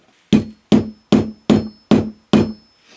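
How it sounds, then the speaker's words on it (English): A hammer taps six times at an even, steady rhythm, each sharp close strike setting a Halo Snap over fabric, with brief ringing decay between blows. "hit that top very gently with a hammer"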